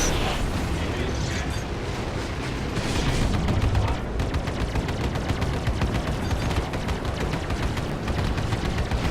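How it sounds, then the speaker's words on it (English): Spaceship weapons in the Arena Commander video game fire in dense rapid bursts, loud and continuous, with rumbling blasts underneath and a faint voice in the mix. "Fire in controlled bursts. And give your weapons time to cool."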